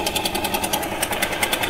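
A motor boat engine on the Gangadhar river in Kurigram, coming toward a ghat, chugs with a loud, fast, regular pulsing throb that stays steady and prominent.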